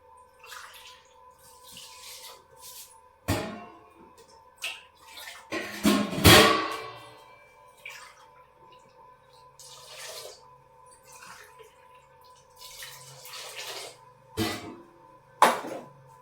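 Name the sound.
water being poured into a cooking pot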